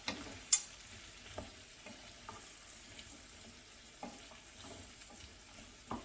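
About two cups of halved and quartered carrots go into a simmering pan for a chicken and red potato dish. Scattered knocks and taps land over a low, steady bubbling sizzle, starting with a louder clatter.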